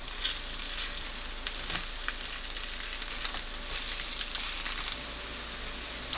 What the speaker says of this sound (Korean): 센 불로 부치면 속이 익지 않고 겉만 색이 진해지기 때문에 중약불이나 약불로 천천히 부치는 게 좋아요